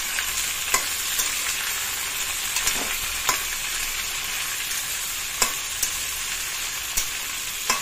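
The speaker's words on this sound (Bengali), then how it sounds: "বিনস সব দিয়ে দিচ্ছি। সমস্ত দিয়ে আমি ভেজে নিচ্ছি।" Beans and vegetables frying in a pan for a dalia dish, a steady bright sizzle with occasional sharp clicks of a spatula stirring, close and continuous with no talking.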